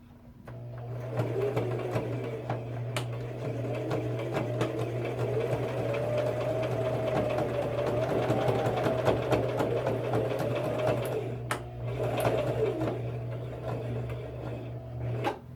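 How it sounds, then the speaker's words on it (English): A sewing machine stitches a fabric face mask along the seam where white fabric meets red, running in a steady continuous whir close up, with a couple of brief pauses near the end. "Next, we're going to sew where the white meets the red."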